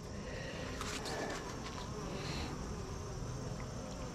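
Honeybees buzzing up close during a hive inspection, a steady dense hum of many wings with brief swells as individual bees pass near, with no talk.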